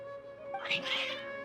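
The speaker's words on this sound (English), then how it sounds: "Kitty cats." Cats meow in a Genshin Impact Archon Quest scene, one clear drawn-out mewing call rising midway over a soft background hum, close and fairly loud.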